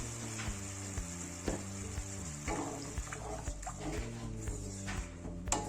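Egg and fish curry masala cooks in a pan, with a soft frying sizzle beneath intermittent stirring knocks and scrapes, under a steady low hum with a rhythmic pulse; moderately quiet throughout.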